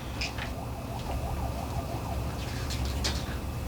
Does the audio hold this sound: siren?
yes